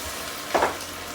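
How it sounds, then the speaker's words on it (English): Brief burst of sizzling in a very hot pan as cider vinegar is poured in to deglaze, swelling sharply for about half a second and then fading back into a low background hiss. "Now I've turned the heat all the way up, and we're going to start deglazing here."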